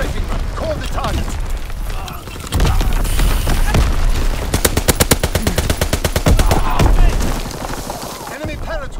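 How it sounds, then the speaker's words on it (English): Fighter aircraft strafing runs in Call of Duty WWII on the Shipment 1944 map unleash rapid, dense bursts of machine-gun fire over loud ongoing game gunfire and booms, with rattling volleys peaking midway and game voice lines heard throughout. "Fighter pilot inbound. Strafing the target."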